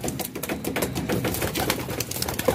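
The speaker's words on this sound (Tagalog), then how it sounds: "rumonda na yung ating mga ibon." Racing pigeons released from a loft fly around overhead. Wings flap and clatter in a busy, continuous patter at moderate loudness against a steady background.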